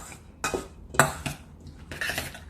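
A salmon burger mixture is stirred in a bowl with a utensil, giving a few distinct clinks and scrapes against the dish in an uneven rhythm, close by and with no talking.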